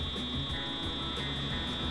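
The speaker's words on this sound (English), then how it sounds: "a two-tone buzzer activates, indicating that the excavator is in the correct position to unlock the quick hitch safely" A two-tone buzzer on a JCB excavator's hydraulic quick hitch sounds steadily and loudly, signalling the dipper is positioned to unlock, over low engine rumble throughout.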